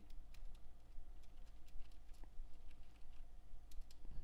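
Fast, steady typing on a computer keyboard while writing in MS Word, with soft, irregular key clicks and a few sharper presses such as the Enter key, heard close over a low background hum with no talking.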